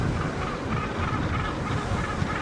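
Cape Gannets call at a crowded breeding colony at Lambert's Bay, South Africa, a dense, continuous mass of harsh honking cries with wind noise across the whole stretch.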